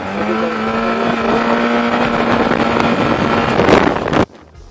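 Yamaha TMAX 560 2020 scooter fitted with a Malossi variator accelerating, its engine note rising steadily under loud wind rush before cutting off abruptly near the end.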